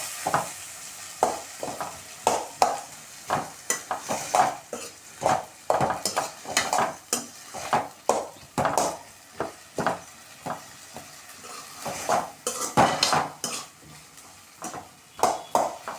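Tomato chutney (thakkali kara chutney) sautéing in a pan: steady sizzle with repeated scraping stirs and ladle clinks against the pan, close and fairly loud, no voices.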